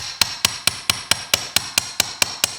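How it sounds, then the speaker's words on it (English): Wire flattened with a hammer on a steel bench block: eleven sharp metallic strikes in a steady, even rhythm, close and ringing, with no talking. "And then I bring my bench block in and I give it a little hammer."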